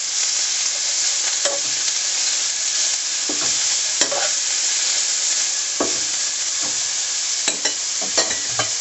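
Onions sweating in a pot for a vegan yam stir fry, stirred with a utensil: a constant close sizzle broken by repeated scraping strokes and light knocks against the pot.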